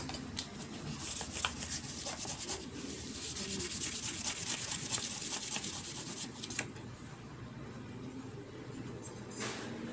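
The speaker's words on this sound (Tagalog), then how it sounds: "Yung nabili ko medyo makapal konti, kaya magliliha tayo guys." Sandpaper rubs down a slightly too-thick replacement carbon brush for an auxiliary fan motor. Quick, close rasping strokes repeat in short bursts over a steady low background, faint and without talk.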